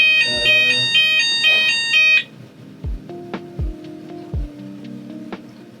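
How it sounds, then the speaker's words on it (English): A fire alarm in a building sounds a steady, loud, pulsing tone with harmonics for about two seconds, then stops abruptly, leaving quieter room noise with scattered knocks. "What is that noise, bro? Fire alarm."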